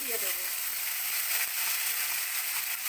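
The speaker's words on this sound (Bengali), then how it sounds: "এবার আমি যে বাটা মশলাটা দেখালাম যে সব আদা রসুন সব করেছিলাম সেই মশলাটা আমি তেলেতে" Ginger-garlic spice paste sizzling in hot oil for egg biryani, a loud, dense, continuous hiss and sputter heard up close and without a break.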